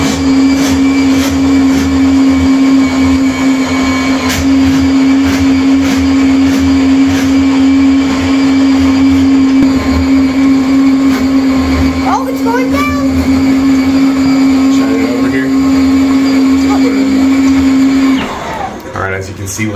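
Milwaukee Switch Drum drain snake runs loud and steady in a greywater drain, a constant motor hum throughout, cutting off near the end.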